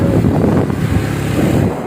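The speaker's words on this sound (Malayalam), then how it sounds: "ഭയങ്കര കാറ്റ്" Strong wind roars steadily across the microphone in a rainy outdoor setting, a loud, continuous buffeting rumble with no voices.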